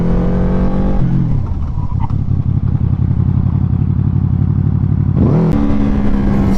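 A QJmotor Flash 600 V4 motorcycle on a test ride, its engine droning loud and steady with rising revs at the start, a sustained mid-throttle roar, then a sharp gear change and renewed climb near the end.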